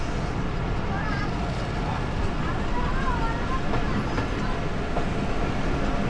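A Bhatiapara Mail train runs on rails through the rural countryside of Rajbari, Faridpur and Gopalganj, making a loud, steady rumble with faint clacking throughout.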